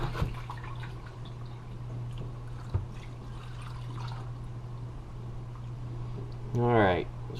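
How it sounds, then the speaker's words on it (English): Vinegar poured into a jar of salted pike pieces, a short gurgling pour near the end following a steady hum, with someone talking through most of it. "I'm going to put a little more vinegar in here just to swish the salt around"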